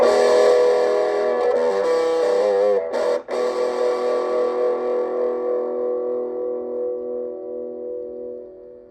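An electric guitar chord rings out through heavy diode-clipping distortion from a TS808-style pedal, buzzy and sustained, briefly choked then fading slowly over several seconds.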